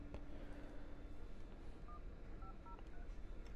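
A telephone is dialed, its short DTMF tones beeping faintly one after another against a soft background hiss, with no talking.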